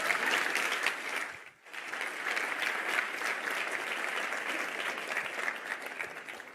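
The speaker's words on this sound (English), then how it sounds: "let's welcome him with some claps" Audience applause at a React.js developer conference talk fills the room, steady clapping from a large crowd that dips briefly and then continues evenly without speech.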